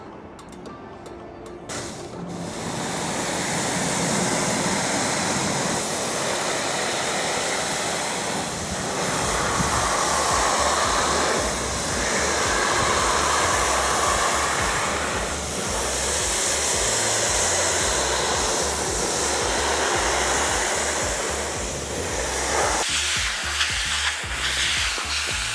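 Steady broadband hiss of a pressure-washer water spray rinsing the rest of a vehicle after a citrus all-purpose cleaner wash, loud and continuous for most of the stretch, with no talk.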